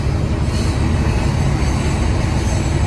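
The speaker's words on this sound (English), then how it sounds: "Train of the day." A train rumbles past nearby on a main rail line, a loud continuous roar of rolling wheels and rail noise with no voices.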